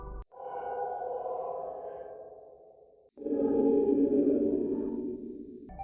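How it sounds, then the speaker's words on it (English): Eerie wind-like sound cue from a Five Nights fan horror game, two long breathy whooshes, the second louder and closer, each swelling and fading without any talking. "With Helen, she makes this little, like, wind noise"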